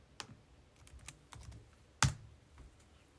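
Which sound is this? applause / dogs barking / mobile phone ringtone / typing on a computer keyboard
typing on a computer keyboard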